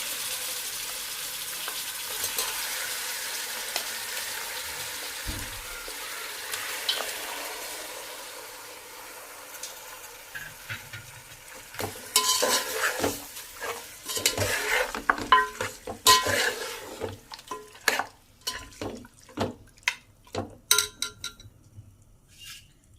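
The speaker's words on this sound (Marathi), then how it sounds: "आता आपण याच्यामध्ये मटण सोडून घेऊ" Mutton sizzles in hot oil with browned onions in a pot, a low steady hiss at first, then louder bursts of frying and scraping as the meat is stirred, with no talk over it.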